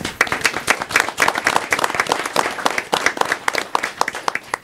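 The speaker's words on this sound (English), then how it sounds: "Round of applause." An audience claps through a round of applause at a county commissioners meeting, a dense, fairly close burst of many hands clapping at an even rhythm that stays steady throughout.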